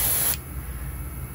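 A short, loud hissing burst of spray paint from an airbrush-style sprayer, used while painting a greenback cutthroat trout, cuts off abruptly after a third of a second and leaves a quiet background hum.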